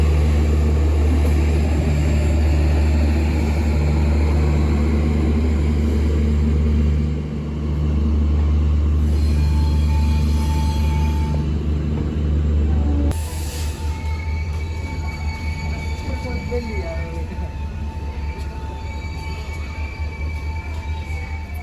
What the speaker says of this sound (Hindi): तो फिरोजपुर कैंट जंक्शन पर अपना अराइवल हो रहा है